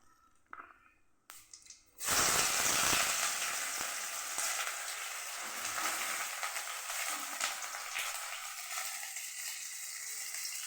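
Chopped onions hit a hot pan and sizzle loudly and steadily, a dense continuous frying hiss after a few quiet clinks at the start.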